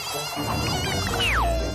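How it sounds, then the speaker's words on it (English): Mosquitoes whine in a cartoon scene, a thin high buzzing that swoops and then falls in pitch near the end of a short burst over steady background music. "More mosquitoes!"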